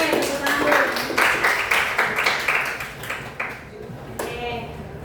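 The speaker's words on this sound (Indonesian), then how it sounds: "Oke, tepuk tangan." Classroom clapping after a group presentation, a burst of many hands applauding for several seconds that thins out, with children's voices and chatter mixed in underneath.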